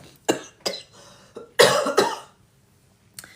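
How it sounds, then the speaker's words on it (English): A run of harsh coughs, several short bursts spaced unevenly, close and loud, with a final small cough after a pause. "I swear my cough's better until I sit down to do a live."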